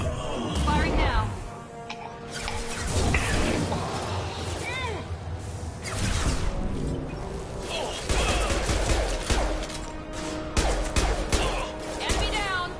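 Gunfire in the Mass Effect 2 video game, dense bursts of shots and impacts blended with loud combat effects and music, continuous and close throughout.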